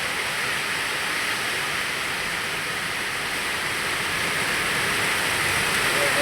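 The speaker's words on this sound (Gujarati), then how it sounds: "વરસાદ વરસાદનો માહોલ જોરદાર વરસાદ પડે છે અમારો" Heavy rain pours down steadily and loudly, a dense, continuous wash of falling water that fills the whole stretch without pause.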